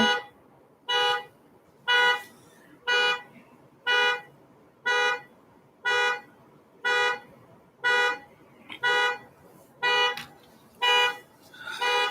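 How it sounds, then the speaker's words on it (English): A car alarm blares in steady pulses, about one honk-like blast per second, loud and evenly spaced for over twelve seconds with nothing else heard. "I hate when alarms go off and they can't turn them"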